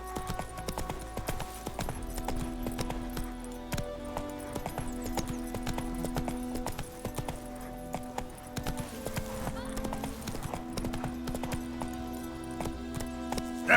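Geralt's horse Roach galloping in The Witcher 3, a steady clip-clop of hooves under a continuous music score.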